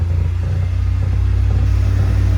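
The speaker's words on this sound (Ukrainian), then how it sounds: "Так, газку дай до 2000 оборотів." A VW Golf engine is held at about 2000 rpm as a steady, loud, low rumble, close and continuous, with no voices over it.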